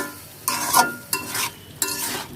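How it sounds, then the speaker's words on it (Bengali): Cauliflower and vegetables are stirred and fried in spices in a pan for a fish curry, three distinct bursts of scraping and sizzling as the spatula moves, with quieter frying between them. "সবজিটা আরও কিছুক্ষণ মশলার মধ্যে কষিয়ে নিয়ে পরে আমরা ঝোল দিয়ে দিব।"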